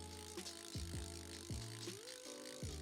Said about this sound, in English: So here is the sound of the actual drag clicking.